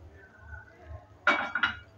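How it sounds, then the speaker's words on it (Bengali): A metal wok set down on a gas stove, giving a couple of sharp clanks and a short scrape close by after a quiet stretch of low burner hum. "আর একটা কড়াই বসিয়ে দিয়েছি।"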